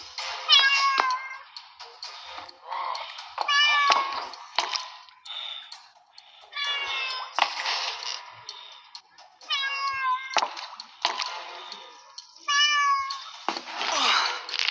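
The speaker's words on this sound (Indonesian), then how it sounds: "Nah, kita ikutin suara kucing ini." Repeated cat meows in short bursts with pauses between, from an audio video game, set over a faint steady background; the calls are clear and fairly close.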